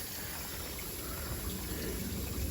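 Pond pump return water splashing onto the pond surface outdoors, a steady soft trickling and gurgling wash that continues unbroken at moderate distance, no voices.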